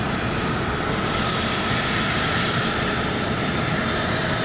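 A Frontier Airlines Airbus A321 in Jaguar livery, arriving from Boston at Raleigh-Durham on a windy day, produces a constant, even jet engine roar at moderate loudness without any voices.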